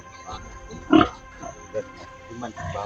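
A pig oinks in a few short grunts, with one louder snort standing out, mixed in among people chatting nearby.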